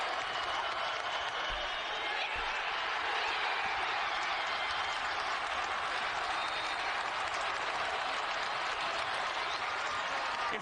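A sellout crowd in a college basketball arena at Providence, a dense, steady roar of cheering and applause that sustains evenly throughout.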